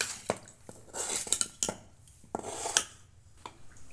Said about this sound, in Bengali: এই গুঁড়িটা আমি জল দিয়ে মেখে নিচ্ছি।